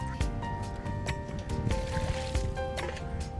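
Tuna pieces being washed by hand in a vessel of water, with steady sloshing, dripping and squishing splashes repeating close by and fairly loud, some faint clinks mixed in.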